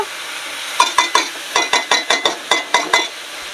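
Cumin and chili paste frying in a pan, with a rhythmic run of about a dozen quick metal spatula scrapes and clinks over a steady sizzle, loud and close.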